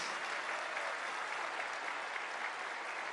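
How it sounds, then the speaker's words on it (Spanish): Large crowd at a May Day rally held at an oil refinery in Mexico, giving steady, sustained applause that sounds distant and faint, with no voices standing out. "Un aplauso a nuestros paisanos, a los trabajadores migrantes."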